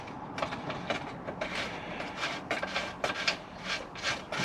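Metal bolt being threaded in by hand to hold a custom skid plate template on a GTO, heard as a run of close scraping, rasping rubs with small ticks and clicks.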